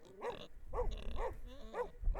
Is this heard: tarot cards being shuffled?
no